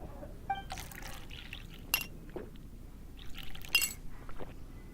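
Juice poured into a glass in Genshin Impact: light glassy clinks and short splashing bursts of liquid, spaced unevenly and quiet against a hushed background.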